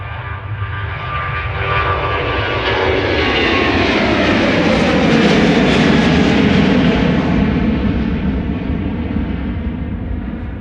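A Ryanair jet airliner departs a runway at Amsterdam Schiphol, a loud, steady engine roar that swells as it passes and then slowly fades, with no talking.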